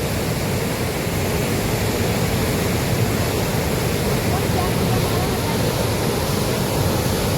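Rushing floodwater after heavy rain pours past a village bridge in a dense, continuous roar, loud and unbroken throughout.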